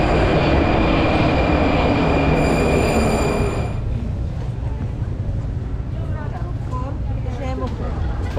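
A Prague metro train runs deep underground beneath the Vltava, its loud, steady rumble of wheels with high squealing tones filling the carriage before easing to a quieter, rattling roll, with voices heard faintly in the background.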